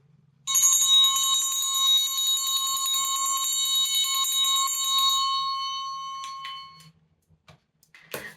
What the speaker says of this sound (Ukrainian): І цей набір якраз починається зі звуку дзвоника.